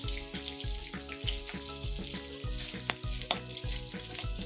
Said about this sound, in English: Heat the olive oil in a frying pan over medium heat. Add the bacon and cook until lightly brown.